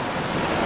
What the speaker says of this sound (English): Those waves are pretty big. Wait for this next wave.